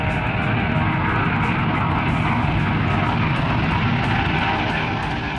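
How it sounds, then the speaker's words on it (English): A Lockheed L-1011 TriStar, a trijet airliner from the 1970s and 80s, gives a loud, steady engine roar that holds constant and broad throughout, with no voices. "Lockheed L-1011 TriStar. A legendary trijet from the 1970s and 80s"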